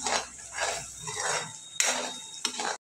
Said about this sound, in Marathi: आणि ही ग्रेव्ही हलवायची आहे.